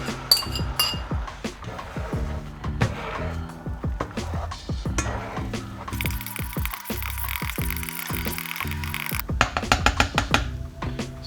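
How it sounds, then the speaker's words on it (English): Eggs being slowly moved around a pan while cooking breakfast for a wrap, heard as frequent close clinks and scrapes of utensil against pan, with a steady sizzle in the background and a busy, rattling rhythm throughout. "the eggs go in and you just very slowly move it around the pan until they scramble"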